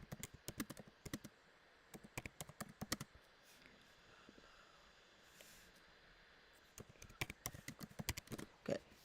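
Clatter of typing on a computer keyboard in rapid bursts, pausing for a few seconds in the middle before resuming, quiet and close with faint room noise and no speech.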